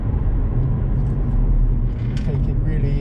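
A BMW M140i on an easy cool-down lap of Snetterton circuit gives a steady, loud low engine drone and road rumble throughout, with someone talking over it.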